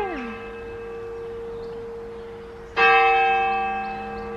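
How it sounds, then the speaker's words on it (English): Church bells ring in the town of Padstow, Cornwall: a long, steady bell tone hums on, then a fresh clear stroke lands and slowly fades, fairly loud and resonant, carrying through open air. "Lovely to hear the bells."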